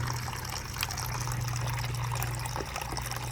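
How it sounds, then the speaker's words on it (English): Water-based coolant draining steadily from a popped radiator hose on a 1999 Yamaha YZF R1 motorcycle, a continuous close trickling splash with a low steady hum underneath. "Pop the hose, let it leak out"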